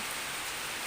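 Rain falls in a brief, soft, steady hiss of drops on surfaces, faint and even with no other sound.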